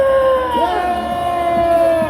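A crowd shouting a long collective cheer at a political rally in Yongsan, Korea, a sustained loud roar of many voices mixed with a steady siren-like tone, continuing through the whole moment.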